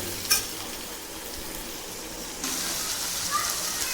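Tomatoes and onions sautéing in a pan give a steady, soft sizzle, with a brief clink near the start and a slightly louder, brighter frying hiss in the second half.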